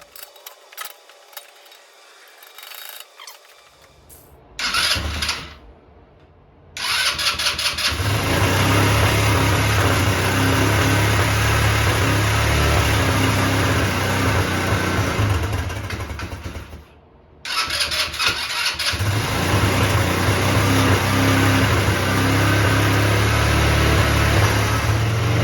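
A GY6 150cc Chinese ATV engine being worked on for carburetor adjustment, heard starting after a short cranking attempt, then running at a loud, steady idle. It cuts out briefly and restarts, continuing to run with no voices.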